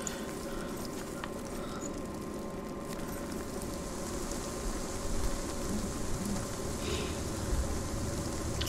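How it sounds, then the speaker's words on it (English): Steady rain from the game Hellblade: Senua's Sacrifice, a dense hiss of drops on surfaces with low rumbling underneath, continuous and fairly loud throughout with no voices. "Raining."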